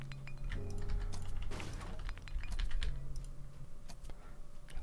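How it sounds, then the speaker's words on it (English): Computer keyboard keys clatter in quick, uneven bursts of taps during an online Dungeons & Dragons video game, close and fairly loud, with a few heavier clunks. No one talks. "Just gotta get the hang of this keyboard stuff."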